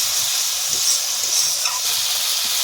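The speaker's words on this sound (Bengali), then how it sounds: "একটু জল দেবো একটু জল দেবো ভালো করে মশলাটা কষে নেব" Spice paste with a splash of water is stir-fried in a pan for a vegetarian soybean kofta and potato curry, giving a steady, close, hissing sizzle throughout with faint scraping underneath.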